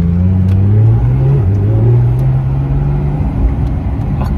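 A sports car engine revs loud and close in a deep, throbbing rumble. Its pitch rises, drops briefly at a shift, then holds steady under power.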